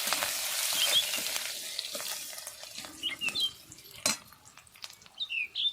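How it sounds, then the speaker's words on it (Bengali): Panch phoron, a pinch of asafoetida and crushed ginger fry in hot oil in a pan, giving a bright steady sizzle that softens over a few seconds, with a few clinks and scrapes of stirring near the end and no talking. "দেবো কিছুটা পরিমাণে থেতো করে রাখা আদা এটা খুব ভালো করে একটু ভেজে নেবো"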